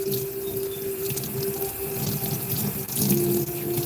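Running water rinses soap out of a cloth or sponge, a steady close rush of tap water splashing into a sink with no talking.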